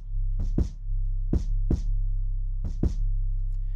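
An 808 bass in FL Studio is ducked hard by sidechain compression under a kick drum, the steady low bass dipping deeply with each of six kick hits, loud and without any voice.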